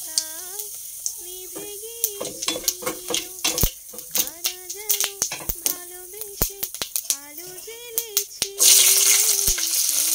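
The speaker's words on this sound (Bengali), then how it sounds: "এখন দিয়ে দেবো ফোড়ন, শুকনো লঙ্কা, তেজপাতা, গোটা জিরে" Dry red chillies, bay leaf and whole cumin crackle in a little hot oil, giving sharp pops and a steady sizzle beneath a voice that talks over them almost the whole time.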